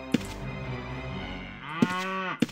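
Cows in the Ruins & Riches video game moo in a long, loud, drawn-out low call, followed by a second rising moo, with sharp clicks punctuating the start, middle and end.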